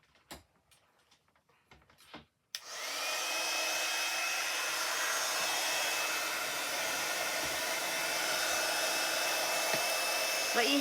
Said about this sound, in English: Let your heat gun warm up